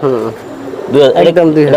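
Close, loud cooing of a Giribaz high-flyer pigeon: a throaty coo, a short pause, then a longer run of deep rolling coos.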